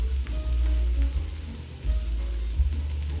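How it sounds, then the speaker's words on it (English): Shrimp sizzle steadily in a hot frying pan, a loud, continuous frying crackle with small pops throughout and no voices. "I'm gonna get that second flip"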